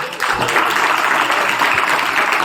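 A crowd at a village government school's Republic Day program breaks into sustained applause, dense and steady, loud and close, with no pauses.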